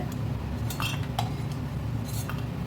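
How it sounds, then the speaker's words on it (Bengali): Fried lentil dumplings are lifted from oil into a container, giving a few soft metallic clinks and scrapes of a utensil against the pan over a quiet low background. "বড়িগুলো তুলে রেখে দিচ্ছি একটা পাত্রে"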